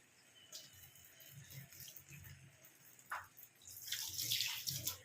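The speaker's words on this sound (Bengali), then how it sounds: "হাতটা ধুয়ে একটু জল দিয়ে দিলাম।" Hands are washed and water is poured in a kitchen, faint splashing and trickling near the microphone, with a louder rush of water toward the end.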